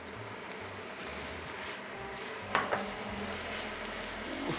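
Prawns frying in a hot pan for kung pao prawn with pancetta and prawn oil, a steady close sizzle with a couple of sharp spatter pops midway, no talking.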